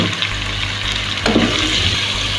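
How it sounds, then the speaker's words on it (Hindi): Water is poured into a pan of chicken with tomato, red chili, turmeric, salt and ground coriander, a steady splashing gush that runs continuously for a couple of seconds with a brief surge midway. "मसालों की बुनाई करते हुए हम इसमें थोड़ा सा पानी शामिल कर देंगे"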